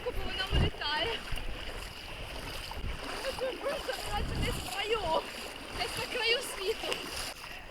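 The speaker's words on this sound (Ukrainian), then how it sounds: "звісно, кайфово йти по такій воді" Feet slosh and splash through shallow, warm sea water at Elafonisi Beach, Crete, in a steady walking rhythm, close by, with light wind and occasional soft voices in the background.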